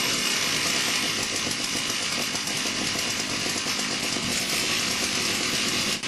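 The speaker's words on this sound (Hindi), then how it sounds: "ऐसी आवाज है जैसे कई लकड़हारे एक साथ चेनसॉ चला रहे हों" Motorbikes built with chainsaw engines rev together before a race at a rock festival, a dense, loud, continuous buzzing roar of many small two-stroke engines layered over one another without a break.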